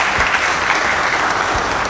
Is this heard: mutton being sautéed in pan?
no